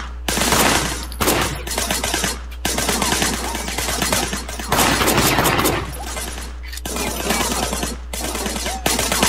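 Video game gunfire in Sleeping Dogs, heavy bursts of shots and loud blasts in several dense waves separated by brief drops, sitting over a constant low rumble.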